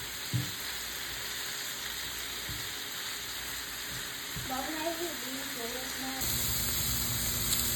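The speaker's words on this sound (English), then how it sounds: "I'm frying up the ham to give it a little more flavor." Ham sizzles and fries in a pan, a steady close crackle with occasional stirring clatter and a brief whistling tone partway through. It grows louder near the end.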